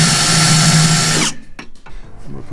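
A power drill whines loudly for about a second while boring a pilot hole in a 2022 Chevy 2500HD truck bed for a B&W Turnoverball gooseneck hitch, then cuts off, followed by faint clatter.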